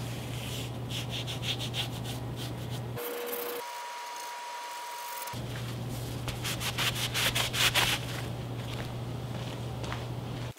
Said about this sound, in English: Next, I take some walnut shavings and rub them into the glue to cover up the seams.